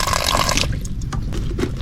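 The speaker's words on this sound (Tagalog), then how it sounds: "syempre, lagyan natin ng konting tubig" Water pours into a cooking pot for boiling freshly caught crabs, a close, steady splashing stream that stops early, followed by a few soft drips and clunks.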